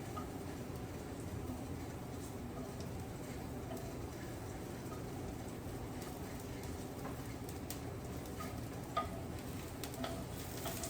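Scallions and other nacho ingredients cook in a pan with a steady, close, low sizzle and occasional faint stirring ticks, continuous and without talking.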